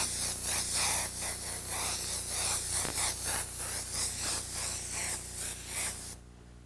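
An airbrush sprays paint in a series of close, pulsing hissy bursts, short pulls of the trigger in a loose rhythm, stopping abruptly at the end.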